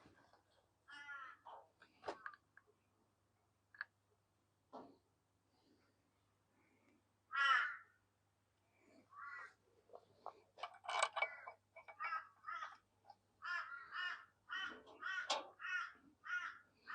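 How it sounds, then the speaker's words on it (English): Crows that visit a work area every day caw repeatedly, with harsh calls coming in bursts at varying distances and the loudest close by, along with a few faint clicks and taps in between. "Naughty crows, they come around every day."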